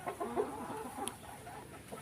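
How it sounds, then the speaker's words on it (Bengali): A large Columbian Brahma rooster clucks softly close by, giving a few low, short bursts over a quiet farmyard background with no voices. "বিদেশি প্রজাতির ভিতরে বড় সাইজের একটা মোরগ কলম্বিয়ান ব্রাহ্মা"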